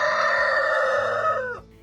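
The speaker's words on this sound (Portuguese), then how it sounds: "Ela cria galinhas polonesas, raça europeia conhecida por sua notável crista de penas, e Brahma, raça nobre de origem asiática." Ornamental Polish and Brahma chickens, a crested European breed and a large Asian breed raised for exhibition, give a single loud, close rooster crow that holds steady and then drops off at the end.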